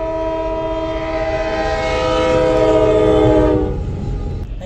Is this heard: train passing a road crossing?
yes